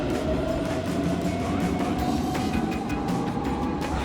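Rome metro train in an underground subway station, a steady loud rumble of rolling wheels and carriage noise with faint rail squeal, continuous throughout with no talk.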